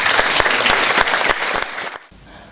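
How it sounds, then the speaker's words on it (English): Audience applause aboard a cruise ship for a choir mistress, loud dense clapping with distinct sharp claps that tapers off and stops near the end. "reserve a special round of applause please for Sarah Hopwood"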